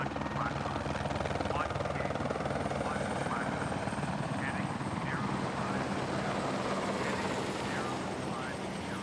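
A helicopter's rotor thumps and turbine whine fill the air continuously, loud and close, with voices talking faintly underneath.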